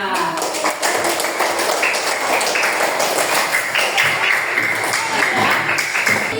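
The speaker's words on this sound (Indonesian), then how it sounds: "Boleh tepuk tangan untuk kelas 3 semuanya." A classroom of pupils claps for class 3, a thick, continuous patter of many small hands at close range that stays steady throughout, with some voices mixed in.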